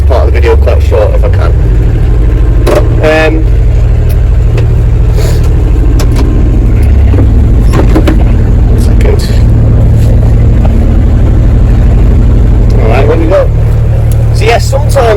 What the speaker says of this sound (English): I've got the tractor engine running now, so it might be a bit loud.